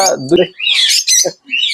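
A female green ring-necked parrot at a parrot farm gives a few loud, close, harsh squawks in quick bursts separated by short gaps.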